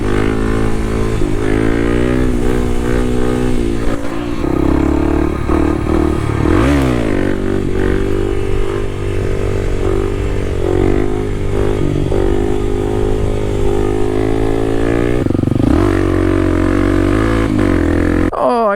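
A Kawasaki KLX300 dirt bike is ridden off-road on a trail beside a road, its single-cylinder engine loud and close throughout, rising and falling as the throttle is blipped and revved, with clattering from the bike and no talk.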